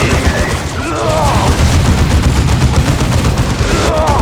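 Vehicle gunfire in a Dawn of War 2 battle against Eldar, a dense continuous barrage of rapid shots and booms sustained throughout, with faint game chatter mixed underneath.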